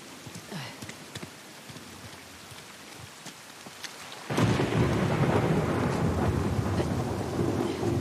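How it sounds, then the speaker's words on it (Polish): Rain and thunder in Uncharted: The Lost Legacy: scattered drips and faint rumbles give way to a sudden heavy downpour roaring loud and steady, with deep thunder beneath it. "Jeszcze i pada."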